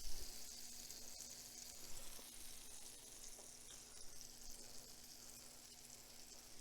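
A ham and cheese sandwich fries butter side down in a very hot skillet, giving a steady, close crackling sizzle with dense spitting that holds at an even level throughout, with no voices.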